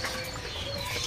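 A kedasi bird in a bird shop calls with short, clear notes over a dense, noisy shop background, with chirps scattered through the second.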